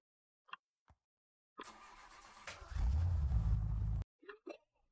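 A car in modded Minecraft starting up: a rising engine whir, then a loud low rumble for over a second that cuts off abruptly, framed by short sounds before and after.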